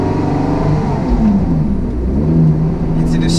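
Lotus Exige Sport 380 engine accelerating on the road, a loud close interior drone with revs climbing and falling through gear changes.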